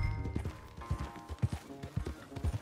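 Horse hooves clip-clop at a steady walking pace in Red Dead Redemption 2, a close, fairly quiet rhythm of hoof strikes over a low ambient background.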